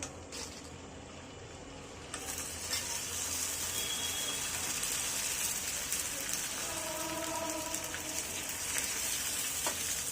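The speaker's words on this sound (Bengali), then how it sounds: "এখন আমরা প্যাকেটে যে কাঁচা ফুচকাটা পাওয়া যায় মেইন ইনগ্রিডিয়েন্টস এটাকে ফ্রাই করে নিব" Raw packaged fuchka shells fry in hot oil a few at a time, giving a steady, dense crackling sizzle that swells after a brief quieter opening and carries on evenly throughout.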